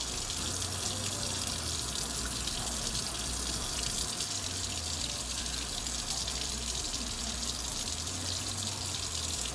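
A makeup brush swirls in water and shampoo on a DIY cleaning mat, giving a dense, continuous wet splashing and rushing sound, close and steady throughout, with no speech.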